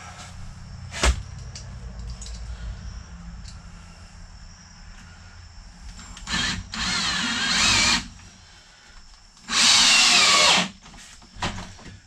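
Power drill driving screws straight down into a 3/4 inch plywood and deck board floor in a cabin, with two loud bursts of drilling, one about 1.5 seconds and a longer one near the end, between quieter handling noises.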